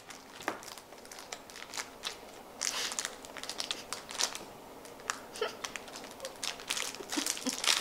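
A snack bag is opened slowly in a quiet room, producing a continuous run of close, sharp crinkles and crackles of plastic packaging with irregular louder bursts and no talking.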